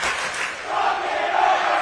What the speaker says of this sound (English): Crowd fired up on both sides.